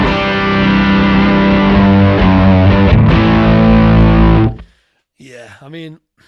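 Electric guitar played through an overdrive model in the Line 6 Mobile POD iPad app rings out as a thick, buzzy sustained chord for several seconds, then cuts off and a voice briefly speaks.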